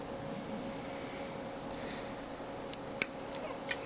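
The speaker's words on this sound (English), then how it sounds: "So, working with clear parts, you want to be extra careful when trimming them out." Clear plastic model kit parts being trimmed from their sprue, heard as a few sharp, close snips near the end, separated by short pauses, over a quiet background hum.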